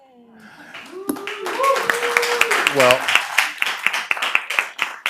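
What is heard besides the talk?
audience clapping at a board meeting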